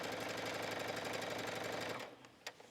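A sewing machine stitching a sleeve into the armhole of a sweater jacket, a rapid steady mechanical whirring chatter for about two seconds that stops abruptly, leaving faint clicks.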